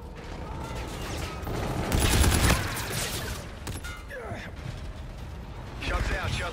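Gunfire in a first-person shooter team deathmatch, with a louder burst of shots near the two-second mark and scattered reports before and after, set among game noise, with a voice talking over it.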